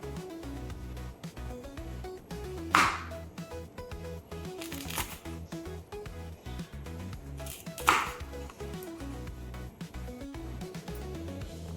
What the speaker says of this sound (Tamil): கூட ரெண்டு பச்சை மிளகாயை நறுக்கிக்கிறேன்